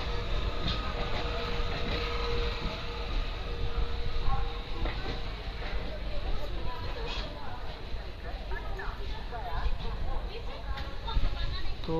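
Kosi Super Express train rolling on rails through West Bengal toward Muri Junction, a steady broadband rumble with rattling carriage noise throughout, people talking over it.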